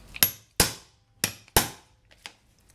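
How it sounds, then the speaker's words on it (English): A chisel tapped with a mallet along a cut in wood, four sharp close knocks in two pairs followed by a couple of fainter taps, no talking. "So now I'll take the chisel again and I can set it right into the cut"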